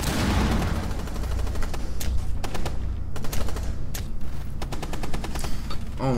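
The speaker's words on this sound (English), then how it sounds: "This dude's using a silenced fucking shotgun." Rapid gunfire in a Rainbow Six Siege match, with many sharp shots from a silenced shotgun and other weapons cracking in quick bursts and clusters, loud and close, with no talk over it.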